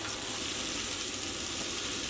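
Sliced jalapeños fry in butter in a pan at a trail campsite, giving a steady, close crackling sizzle that holds even throughout, with no talking.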